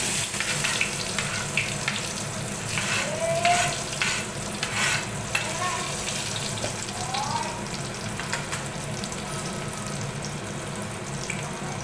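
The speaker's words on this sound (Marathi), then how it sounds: "बघा आता आपण कांदा चांगला परतून घेऊया." Chopped onion frying in hot oil in a cooking pot, a steady close sizzle with occasional stirring scrapes, continuous and fairly even throughout.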